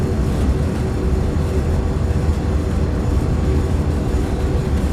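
A heavy diesel locomotive hauling a long freight train down Cajon Pass in Train Sim World 3, holding speed with dynamic braking, gives a steady loud low rumble throughout.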